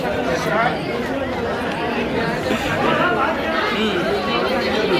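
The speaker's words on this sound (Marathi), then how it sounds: "तुफान गर्दी आली आहे बघा" A large crowd fills a theatre hall for a Naman folk performance in Mumbai, producing a dense, continuous hubbub of overlapping chatter, close and steady throughout.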